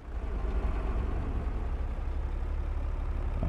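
An older tractor engine in Farming Simulator 22, heard from inside the cab, drones steadily with a low, rumbling hum at moderate volume and no talk.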